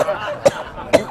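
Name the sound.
cough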